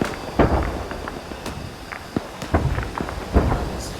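Heavy gunfire from an Arma 3 military simulation battle, a cluster of sharp cracks and thuds spaced irregularly across a few seconds over a constant noisy background, with no talk.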